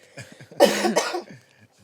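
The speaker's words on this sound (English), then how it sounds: "sorry, my cough" One person coughs twice in quick succession, close and moderately loud, in a quiet indoor setting with a faint voice before it.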